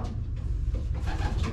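A low, throaty pigeon coo rolls along nearby, soft and continuous over a short stretch.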